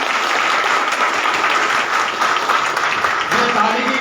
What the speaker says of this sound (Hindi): एक बार जोरदार तालियां बजाएं।